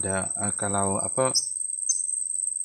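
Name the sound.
birds chirping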